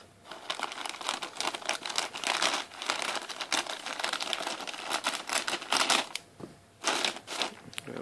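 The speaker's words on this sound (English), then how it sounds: "Be careful how I cut into this." Plastic packaging of a Maytag WindTunnel U5450 upright vacuum cleaner being cut open, with steady crinkling and crackling of the wrap that rises and falls in close bursts throughout.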